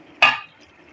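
Water from a cup poured into chicken bhuna masala in a pan, a single short sizzling splash that flares loudly and fades within a quarter second.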